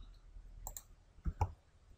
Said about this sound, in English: just select and on the keyboard press delete